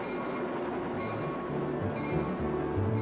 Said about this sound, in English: Take a ride on the fastest train in the US, the Metroliner.